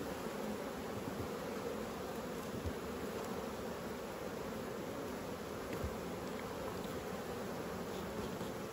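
Honey bees buzz steadily around an open hive during frame work, a dense continuous hum at moderate level with no talk.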